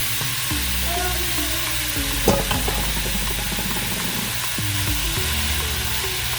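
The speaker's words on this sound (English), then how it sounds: "I'm going to go ahead and throw in that mixture of veggies that I showed you, which is some carrots, some celery, and onions" Chopped carrots, celery and onions sizzle steadily in a hot pan while being stirred, a continuous loud frying hiss with occasional scrapes and clinks of a utensil, with no one talking.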